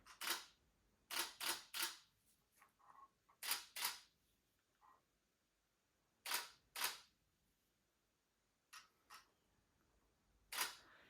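Sharp, close clicks of a Canon DSLR shutter, fired in quick pairs and short bursts with pauses between, alone against a quiet background.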